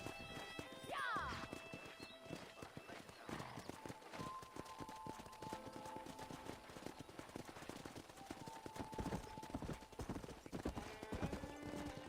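Horses in the video game Red Dead Redemption clop steadily throughout, with a shrill whinny near the start and scattered gunfire-like cracks amid a busy game soundtrack.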